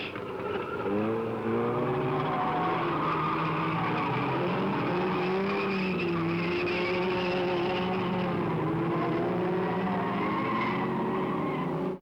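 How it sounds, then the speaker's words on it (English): Production sports cars race at Mallory Park circuit, a bunched field of engines roaring and droning together with shifting pitches and a hint of tyre squeal, loud and continuous throughout. "First laps of the unlimited sports car race, production sports car race, filmed from Shaw's as they all come in here, all in a bunch."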